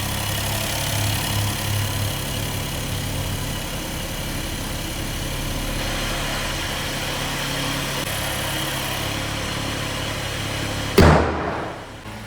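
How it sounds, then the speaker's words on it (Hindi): A Volkswagen Virtus 1.0 TSI engine idles in a steady, low, even hum for several seconds, ending with a brief loud thump. "सुनिए गाड़ी का साउंड ऐसा कुछ आता है।"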